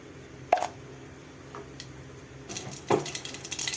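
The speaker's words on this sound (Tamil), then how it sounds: "எண்ணெய் காஞ்சிச்சுங்க, கொஞ்சம் கடுகு போட்டுக்கலாம்" Mustard seeds go into hot oil for tomato rasam: a couple of sharp clinks, then a rising patter of small pops and crackles toward the end, close by, with no talking.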